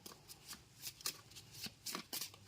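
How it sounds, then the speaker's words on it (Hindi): Tarot cards shuffled by hand up close, a quiet series of soft riffling flicks and slides in irregular bursts, with no talk over them. "तो मैं 5 कार्ड्स निकालूंगी"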